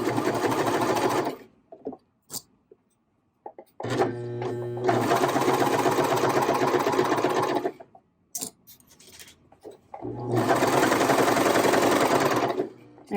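Sewing machine stitching a curved hem on fabric, running in three loud sustained bursts with the motor whirring steadily, separated by brief pauses with faint handling noises.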